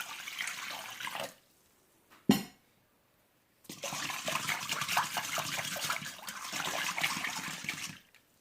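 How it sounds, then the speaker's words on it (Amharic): Warm water pours from a container into a bowl holding yeast and salt, a short splash first, then a sharp clink, then a longer steady stream with a bubbling trickle, close by and free of talk. "ውሃውን አደርግበታለሁ"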